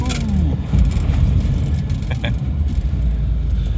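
A 1996 Toyota RAV4J J Touring Limited drives in second gear, heard from inside as a steady, loud, low engine and road rumble. Someone talks over it and a couple of brief clicks can be heard.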